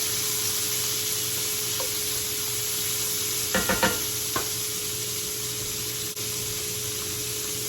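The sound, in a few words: onions, carrots and celery added to hot pan, sizzling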